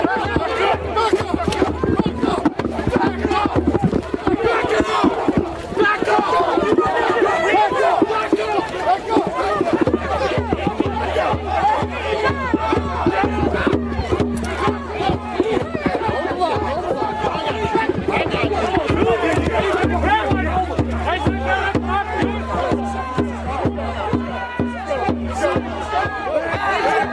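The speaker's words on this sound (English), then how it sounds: "Law enforcement are not having it, yelling for the crowd to get back" Police confronting a crowd of protesters during a hunger-strike protest, a dense, loud roar of many overlapping voices, shouts and chatter that holds steady throughout with no letup.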